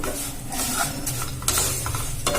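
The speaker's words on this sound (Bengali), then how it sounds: "এটা খুব ভালো করে নাড়াচাড়া করে ভেজে নেব।" Vermicelli fries in ghee while being stirred, a steady sizzle broken by scraping spoon strokes against the pan, close and continuous with no talking.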